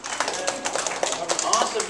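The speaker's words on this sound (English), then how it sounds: "The big applause for my helper." Audience applause for a volunteer helper at a neighborhood Halloween magic show: brisk, scattered clapping runs through the whole short stretch, mixed with voices talking over it.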